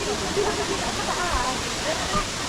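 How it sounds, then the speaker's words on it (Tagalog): Waterfall in China, a steady, broad rush of falling water filling the whole clip at close range, with people's voices faintly mixed in beneath the roar. "Waterfall."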